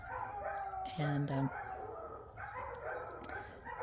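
A dog named Bela howls in short, close, tonal bursts, with a person speaking softly over and between the cries.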